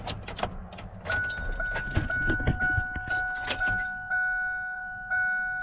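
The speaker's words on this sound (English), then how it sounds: "We're gonna turn the truck on" A jangle and clatter, then a Ford F-550 truck engine with a fuel leak turns over and settles into a steady running hum with a faint whine.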